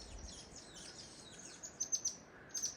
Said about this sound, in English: few little birds around